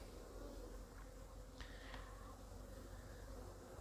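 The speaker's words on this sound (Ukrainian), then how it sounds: "бджілки трішки літають." Honeybees flying around sunlit beehives in an early spring apiary with snow about, a faint steady buzzing hum under a quiet outdoor background, with a couple of brief nearer passes.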